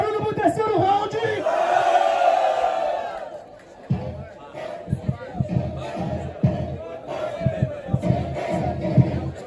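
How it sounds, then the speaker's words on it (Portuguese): A crowd at a freestyle rap battle, Batalha do Tanque, roars, cheers and shouts for about four seconds, then settles into rhythmic thumps and scattered voices. "Barulho para quem gosta mais da rima do Aldós"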